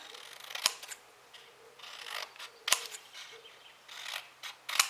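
Scissors snipping scraps of paper in three sharp, isolated cuts spaced about two seconds apart, close and crisp, with soft rustling of paper between them and no talking.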